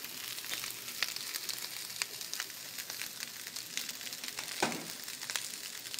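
An egg heats in a pan during a hoisin pork and rice cook, giving a quiet, steady sizzle with scattered small crackles and pops.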